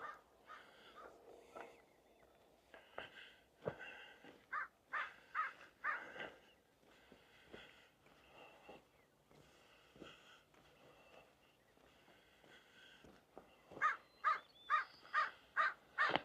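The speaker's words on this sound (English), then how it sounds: "That's right, Mr. Crow." A crow caws repeatedly outdoors along a sand walk, harsh calls spaced irregularly at first and then a rapid run of six or seven loud caws near the end, fairly close, with no talk.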